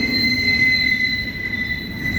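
A CSX intermodal freight train led by locomotive 1776, Spirit of the Armed Forces, rolls past at Sykesville on the old main line, a loud, steady rumble with high wheel squeal sustained throughout.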